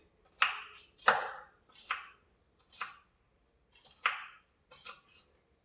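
A knife chops vegetables thinly on a board, six crisp separate strokes at an unhurried, uneven pace, close and clear in a quiet kitchen.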